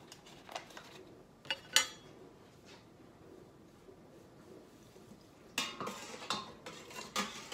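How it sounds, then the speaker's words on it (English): A spoon stirring pectin into warmed mango juice in a pot, faint scattered clinks and scrapes against the metal with quiet gaps between them. "Stir that in real good."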